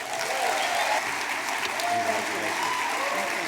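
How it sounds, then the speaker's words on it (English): Audience applause for artist Betye Saar at the LACMA Film + Art gala in Los Angeles: dense, sustained clapping from a large crowd, steady and full throughout. "please give a big round of applause for Betye Saar"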